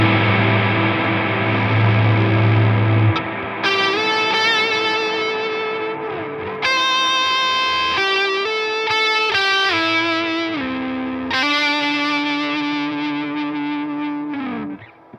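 Guitar through a Walrus Audio Melee reverb pedal with distortion, held chords swelling under sustain with a long reverb decay, shifting between sustained tones as the sound rings on alone.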